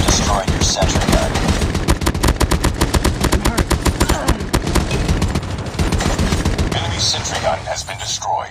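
Rapid, sustained gunfire from the Call of Duty Mobile video game, with loud automatic bursts crackling almost without pause across the whole stretch before thinning out near the end.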